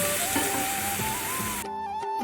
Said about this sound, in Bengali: জিরে আদা আর সর্ষে বাটা জল দিয়ে দিলাম